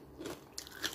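Crunchy dried fish served with pinakbet is bitten close up, giving a few quiet, sharp crunches and crackles in under a second.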